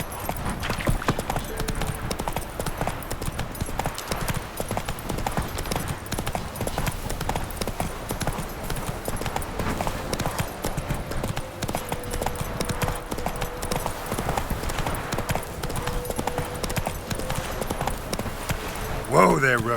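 Roach, the horse in The Witcher 3: Wild Hunt, gallops with a fast, steady clip-clop of hooves throughout, close and loud, with a brief whinny-like burst near the end.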